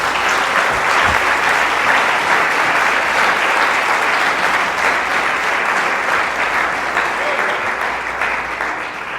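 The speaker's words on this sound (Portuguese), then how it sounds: "Você pode aplaudir bem forte o Senhor?" A church congregation applauds loudly during a Portuguese-language sermon, dense continuous clapping that holds strong for several seconds and tapers slightly at the end.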